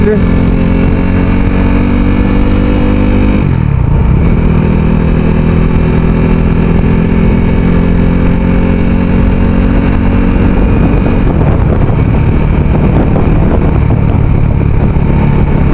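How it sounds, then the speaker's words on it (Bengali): A motorcycle ridden slowly along a road in Lebanon gives a steady, close engine drone with layered low harmonics. The pitch dips briefly around a third of the way through, then holds a constant rumble throughout. "আমি কিন্তু বাইক আস্তে আস্তে রাইড করতেছি,"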